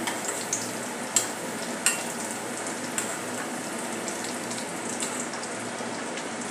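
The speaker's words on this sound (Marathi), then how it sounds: "लो फ्लेमवरच आपल्याला तळून घ्यायचे आहे" Mini samosas frying in oil over a low flame, giving a steady, soft bubbling sizzle with a few faint clicks and no talking.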